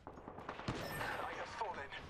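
Gunfire in the Apex Legends video game crackles in rapid repeated bursts, fairly faint and mixed with game sounds, while a voice speaks briefly over it.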